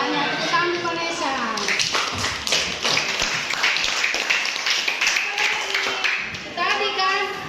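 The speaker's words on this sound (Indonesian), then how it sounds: "Tepuk tangan Vanessa." Children in a classroom clap together for a classmate, a burst of hand taps and claps amid a teacher's voice and kids' chatter.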